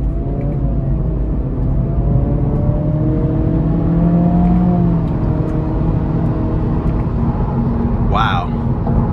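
A 2023 Acura Integra A-Spec with a 200-horsepower 1.5-litre turbo and CVT accelerates on an interstate, giving a steady, rising engine drone and road rumble heard from inside the cabin.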